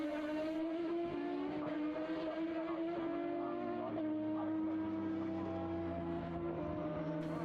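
A Formula BOSS racing car engine howls at high revs during a race in Ireland, its pitch shifting as it passes, loud and sustained with a faint background drone.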